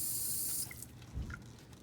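Warm water runs from a tap into an enema bag, a steady hiss of flow that stops partway, followed by faint drips and a soft clunk nearby.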